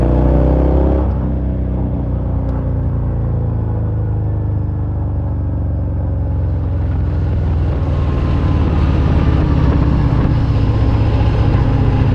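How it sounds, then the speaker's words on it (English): A 2023 Harley-Davidson Fat Bob 114 motorcycle gives a steady, loud engine drone with rising and falling pitch as it revs, exhaust note continuous throughout with wind rush, no talking. "the exhaust sound isn't as good as what it can be"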